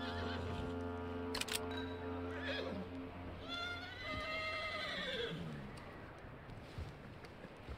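A horse in the video game Red Dead Redemption 2 gives a loud, drawn-out whinny that rises and falls, with scattered hoof clip-clops and a low sustained background tone.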